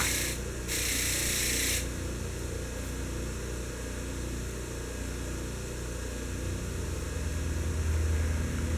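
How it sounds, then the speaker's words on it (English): A wire brush scrubs the threads of a bolt from a Wheel Horse 704 tractor to clear a grinding burr, with two short bursts of harsh, high scratching over a steady low hum of background noise. "Now I use the wire brush to go down in the threads there and take out the burr that was caused when I was grinding the tip down."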